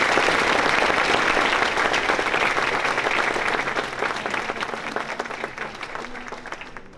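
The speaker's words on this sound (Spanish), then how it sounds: "para lo cual pido un fuerte aplauso, por favor." Theatre audience at the 65th anniversary of the Teatro Nacional de Cuba, during a symphony orchestra concert, gives a loud, sustained round of applause that gradually thins and fades toward the end.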